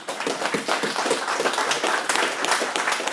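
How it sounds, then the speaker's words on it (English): Audience applause at a business motivational event with Ed Mylett: lively clapping from a crowd with distinct individual hand claps standing out, steady and close. "That deserves a round of applause"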